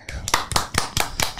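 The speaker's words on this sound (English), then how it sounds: "look how everyone is cheering" Several sharp claps ring out in a quick, fairly even rhythm, close and distinct, with a crowd from the film Life Is Beautiful cheering under them and voices talking over the top.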